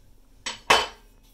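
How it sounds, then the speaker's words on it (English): Pizza dough goo scraped off a mixer paddle or hook, two quick metallic clanks, the second louder and ringing briefly, in a quiet kitchen. "Get this goo off the paddle, or off the hook."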